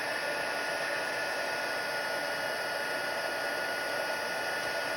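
Heat embossing tool melting Stampin' Up! embossing powder, a steady loud broadband whoosh of hot blowing air that holds evenly throughout with no pauses.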